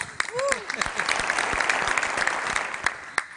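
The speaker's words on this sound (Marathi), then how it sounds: "जोरदार टाळ्या" Applause breaks out, a burst of clapping from a crowd that holds steady for a few seconds.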